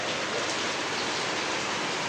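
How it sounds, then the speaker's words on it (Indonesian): Heavy rain pours down in a dense, steady roar of drops with no breaks and no voices. "Hujannya deras banget."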